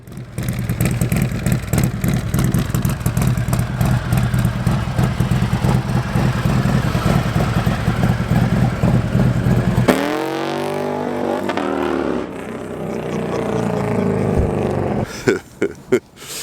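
A Harley-Davidson M8 motorcycle engine revs loud and close, holding a heavy sustained roar for about ten seconds, then winding down in a falling tone and ending with a few sharp pops.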